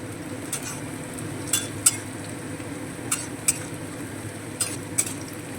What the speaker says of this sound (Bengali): সুইট কর্নটা তুলে রেখেছিলাম সেটা আবারও তেলের মধ্যে ভেজে নেব মানে ডাবল ফ্রাই করব